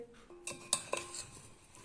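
A spoon scrapes and clinks against a metal pot a few times while mixing chilli pickle, light sharp taps and ringing touches in a quiet setting.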